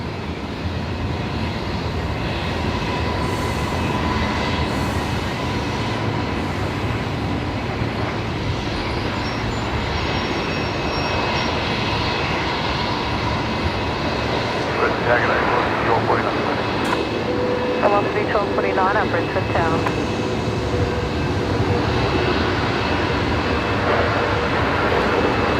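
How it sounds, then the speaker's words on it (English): An Aircalin Airbus A330 lands at Brisbane Airport at night, a broad continuous engine roar at steady loudness with talk over it throughout. "The Calin A330 coming in here from New Caledonia."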